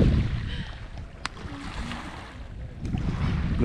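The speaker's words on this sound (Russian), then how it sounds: "Да, море шумит." Sea waves wash onto the shore at Egersheld in Vladivostok, a soft rolling surf with wind noise on the microphone, moderately close and steady with a couple of brief sharper splashes.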